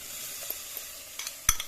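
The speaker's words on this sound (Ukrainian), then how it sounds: "Приступаємо до плавлення сиру." Cheese being stirred as it melts in a cast-iron pot, a soft steady hiss and sizzle broken by a few faint scrapes and one sharper clink of the utensil against the pot.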